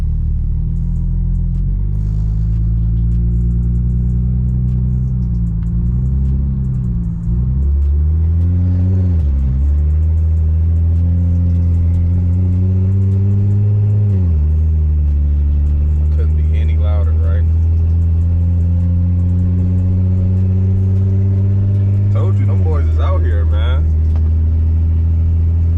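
The low, steady rumble of an 800-horsepower BMW 335i with a turbocharged N54 engine cruising, its drone rising and dropping through gear changes, heard from inside the car. Someone talks over the engine.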